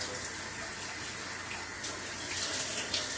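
Food being drained and rinsed under a running kitchen tap, a close, steady rush of water with slight splashing swells near the end, no talking.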